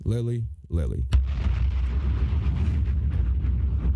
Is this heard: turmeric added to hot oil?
no